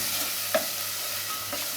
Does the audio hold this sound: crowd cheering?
no